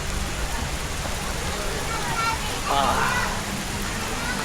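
Steady rain falls at Toyosu Mountain Resort, a constant hiss of drops on surfaces with a slight swell near the end.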